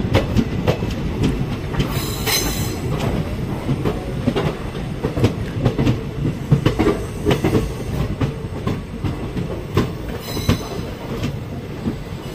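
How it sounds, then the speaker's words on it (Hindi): Nanda Devi Express shunting slowly into Dehradun railway station at walking pace, with a rumbling rhythmic clatter of wheels over rail joints, occasional metallic squeals and creaks close by, with no talking. "नंदा देवी एक्सप्रेस ट्रेन की शंटिंग चलती हुई और 8 किलोमीटर प्रति घंटे की स्पीड से अब हमारी एंट्री होगी देहरादून रेलवे स्टेशन पे।"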